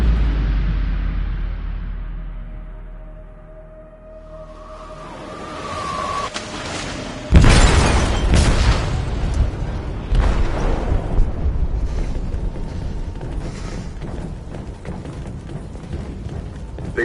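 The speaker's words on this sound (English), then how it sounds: "They detonated an explosive in the hold." A sudden loud boom from an explosive detonating in a ship's hold in Detroit: Become Human breaks out after a quieter stretch, followed by a long rumbling, crashing tail.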